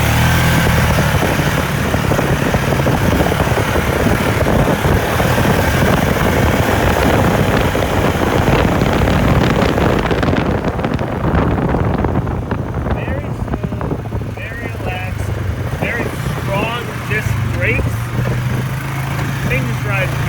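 Exhaust of a 2018 Polaris Sportsman 450 HO ATV while riding, a rough steady engine drone heavy with wind buffeting that eases off partway through to a lower idle-like rumble.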